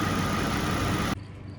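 A 2008 Ford Ranger with the 2.3L engine idling, a steady broadband hum that cuts abruptly to a much quieter low rumble near the end.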